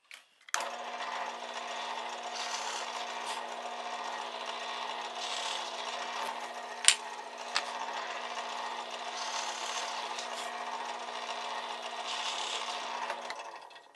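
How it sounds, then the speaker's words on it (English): A power drill with a Forstner bit whirs steadily at a constant pitch, boring with a grinding rasp for over ten seconds, with a couple of sharp clicks midway. "I'm going to make the Forstner bit cuts first of all"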